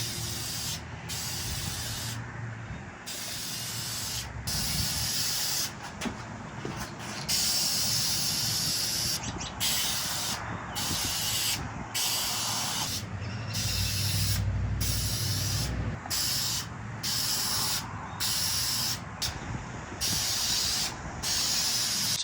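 Spray gun laying a second coat onto a truck headliner, a steady close hiss running throughout with brief pauses and restarts in quick succession.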